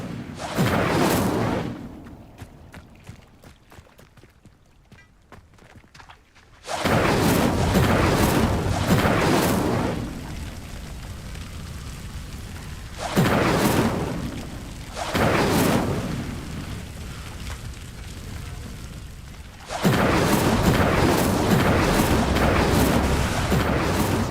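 In Hogwarts Legacy, an Incendio fire spell lights pyres, with several loud, roaring bursts of flame separated by quieter stretches, and each burst holding for a few seconds.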